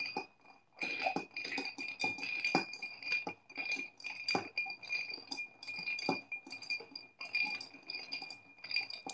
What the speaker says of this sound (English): now I'm just gonna stir this until this is chilled